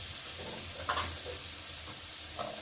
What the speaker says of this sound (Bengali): আলুর সাথে মশলাটা ভালো করে কষিয়ে নেব